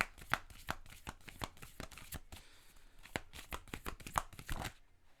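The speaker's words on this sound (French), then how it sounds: "J'ai l'impression que je brasse les cartes dans mon micro." Tarot cards are shuffled right next to the microphone in a quick series of crisp riffling bursts, close and fairly loud, with no voices.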